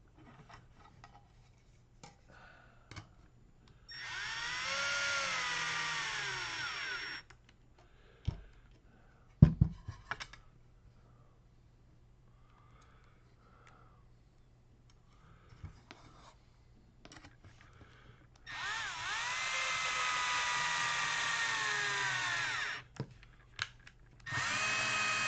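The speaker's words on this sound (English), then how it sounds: "I'll put them in snug, the power wrench, and then I'll hand tighten everything." A power wrench snugs screws on an Associated T6.4 RC truck build, giving two separate bursts of high whirring several seconds long, with quiet clicks and clinks of parts being handled between them.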